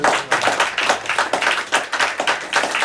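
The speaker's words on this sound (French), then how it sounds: "Voilà, Suleiman Diamanka, qu'on va applaudir" An audience applauds an author being introduced at a French literary meeting, a steady burst of close hand claps with no talking over it.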